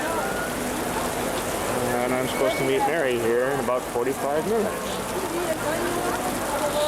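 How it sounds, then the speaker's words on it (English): Heavy rain falls steadily on a street by the Ponte Vecchio over the Arno in Florence, a constant hiss of drops spread across the whole scene while someone talks over it close by. "It's beginning to rain heavier now, as you can hear."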